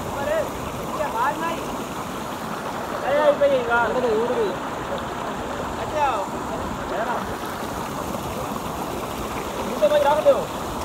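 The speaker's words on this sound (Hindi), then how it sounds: "ये पानी आ रहा है नीचे" Mountain stream water rushing downhill in a village in Soon Valley, Khushab, a steady broadband wash of flowing water with faint voices and outdoor noise mixed in.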